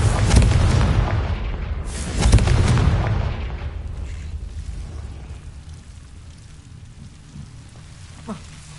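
Fire spell explosion in Hogwarts Legacy, a loud deep boom that rolls and rumbles with a second blast soon after, then trails off into a long decaying crackle with a small late pop.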